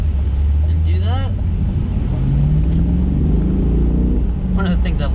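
Chevrolet Corvette C8 from 2021 revving to about 2,600 RPM, a deep, rumbling exhaust note that swells and holds close by, with other traffic and brief sounds around it.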